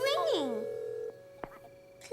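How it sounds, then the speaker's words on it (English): A telephone sounds in the Caillou children's cartoon with a steady electronic tone that runs on after a voice at the start, then continues quietly on its own. "It's ringing."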